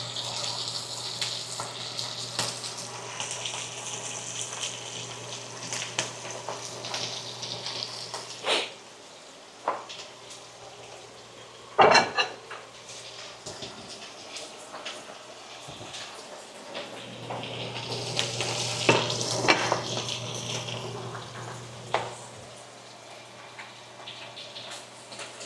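A steak fries in a pan with a low, steady sizzle and occasional louder crackles and spits, fairly quiet and alone, swelling near the end.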